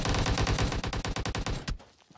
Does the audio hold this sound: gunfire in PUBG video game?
yes